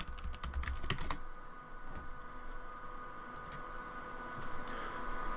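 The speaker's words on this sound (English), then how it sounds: "Type in password for the default password" Keys tapped on a computer keyboard while a password is entered into an ASUS RT-N16 router's OpenWRT 19.07 web login; a quick burst of clicks early on, then sparse, lighter taps over steady room hum.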